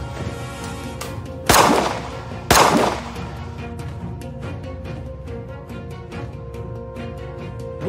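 Two loud, sharp gunshots about a second apart ring out in a comedy skit, each with a bright decaying tail, followed by quieter background sound with no talking.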